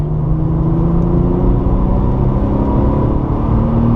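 A Porsche 997 Targa 4S on the Circuit de Bresse, its engine a loud, close, continuous drone that climbs slightly in pitch as it accelerates, with no voices over it.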